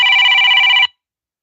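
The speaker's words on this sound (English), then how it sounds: "Does anybody else's phone do that? I get 110 calls a day and it's all spam." A phone rings with a spam-risk call, giving one loud electronic tone that holds steady for almost a second and then stops, leaving silence.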